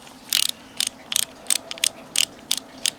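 A ratchet loosens the carburetor studs on an Echo SRM200DA string trimmer: about nine short, sharp bursts of clicking at a steady rhythm, close and crisp, with no talking.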